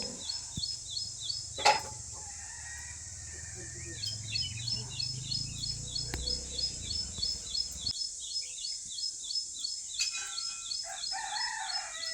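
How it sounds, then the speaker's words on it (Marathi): Birds in a village chirp rapidly and steadily, with a quick repeating twitter that runs through the whole stretch alongside a few louder calls and some quiet background noise. "गावातील शांतता प्राण्यांचा सहवास आणि पक्ष्यांचा किलबिलाट"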